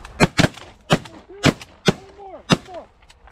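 Shotgun blasts fired at flying Canada geese during a hunt, six sharp loud reports in quick irregular succession, with goose honks sounding between them.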